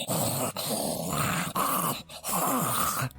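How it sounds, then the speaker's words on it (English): A creature growls in a horror radio drama sound effect, a deep, continuous snarling rumble with brief breaks, loud and close with no voices. "we hear the creature growl"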